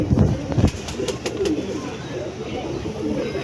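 Benarasi red-headed pigeons coo at a pigeon sale, a few low, soft calls close by near the start, then a busy background murmur with brief voices.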